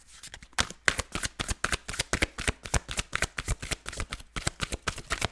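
Tarot cards are shuffled and drawn in a steady run of crisp riffling snaps, close and fairly loud, with no voices.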